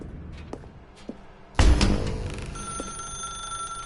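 Telephone in the video game The Stanley Parable starts ringing abruptly after a few soft clicks, a steady electronic bell tone that continues alone at moderate loudness.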